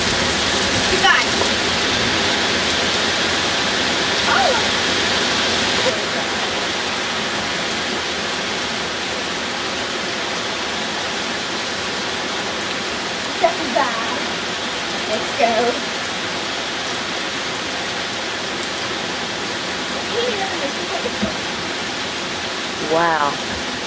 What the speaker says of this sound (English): And it is thundering, you can hear the background of me.